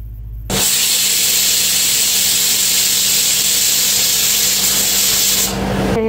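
A pressure cooker whistling on the stove while rice cooks, a loud, steady hissing whistle that starts abruptly and holds for about five seconds before easing off.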